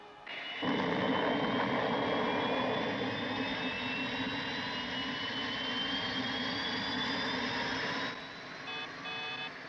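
A TV science-fiction spacecraft lifts off with a sustained jet-like roar and rising, whining tones. The roar holds steady for several seconds and then cuts off abruptly, leaving faint electronic beeps.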